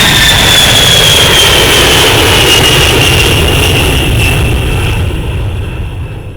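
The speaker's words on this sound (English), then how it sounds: "Notice, too, that the B-52 takes off and climbs in a relatively" Loud, roaring jet engines of a B-52 bomber taking off and climbing, a dense broadband rumble with a high whine that slowly fades as the aircraft moves away.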